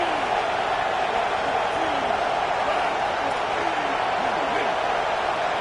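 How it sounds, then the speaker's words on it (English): Stadium crowd noise from the NCAA 27 football video game, a steady dense roar of cheering that fills the whole stretch at an even, loud level with no pauses. "This crowd ready to make its presence known."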